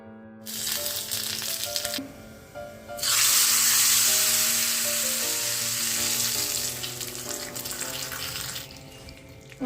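Mustard seeds, dried chillies and curry leaves sizzle in hot coconut oil for a pumpkin curry. After a quieter start, a loud, steady hiss bursts up and fades only slightly, with a constant tonal hum in the background.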